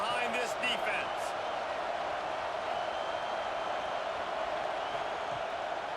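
A roaring stadium crowd in the College Football 26 video game, Auburn Tigers against Arkansas Razorbacks, swells steadily behind the defense on a big third down, a continuous dense wash of cheering with a few sharp thuds early on.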